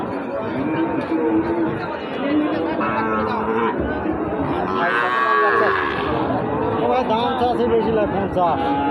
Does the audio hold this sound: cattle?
yes